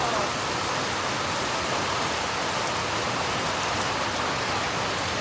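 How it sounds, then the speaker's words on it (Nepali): Heavy rain pouring down during a thunderstorm in Siliguri, a loud, dense and continuous hiss of falling water with no letup. "यस्तो पानी परेको छ कि के भन्नु"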